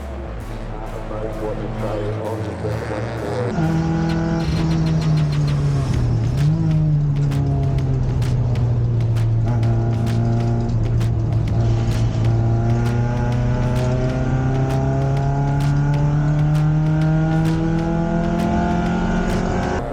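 Excel race car in an enduro race in Western Australia, its engine droning loudly and steadily throughout with rising and falling pitch as it works through gears and corners, close and continuous.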